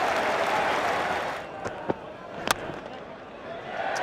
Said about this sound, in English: Huge cheers from the crowd here at Lord's